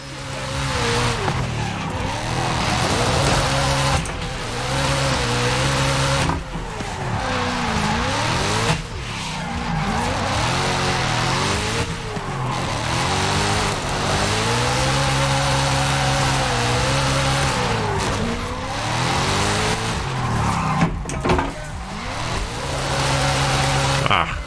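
A BMW M4 G82 with a swapped 4.0 V8 drifts in Forza Horizon 5, its loud engine note rising and falling through gear changes while tires squeal and skid almost continuously, with a few brief drops in revs.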